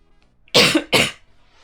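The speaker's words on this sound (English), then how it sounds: "I'm coughing a lot more than usual." A person coughs twice in quick succession, two short harsh bursts close to the mic with quiet before and after.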